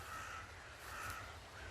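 Crows by a river in winter caw as they take off, rough calls coming faintly from a distance over a low steady background hum.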